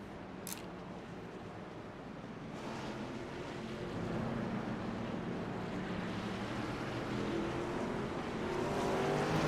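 Race cars circling the track at Richmond in a nighttime race, a steady distant engine roar that slowly swells and grows louder, with a brief sharp sound early on.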